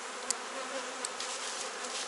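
Honeybees at an open hive frame with capped brood, a continuous close buzzing hum from many bees, steady in level with a few brief louder passes as individual bees fly near, no voices.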